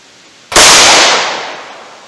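A single sharp shot from a snub nose revolver firing a reloaded round, loud and close, its blast cutting in abruptly and then ringing off in a decaying tail.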